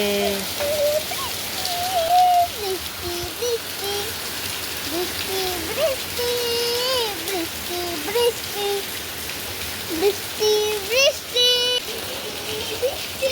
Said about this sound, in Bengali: বাইরে মুসলধারা বৃষ্টি নেমেছে